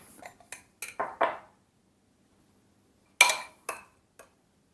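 Cutlery clatters as a spoon is fetched from a kitchen drawer during quiche making: a few short metallic clinks, a pause of silence, then a sharper clatter and two fainter ticks, all close by.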